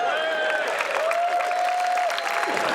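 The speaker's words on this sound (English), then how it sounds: "you've got to give Robert a round of applause" A studio audience claps and cheers for an actor on a television comedy set, a sustained wash of applause with a few whoops or whistles riding on top.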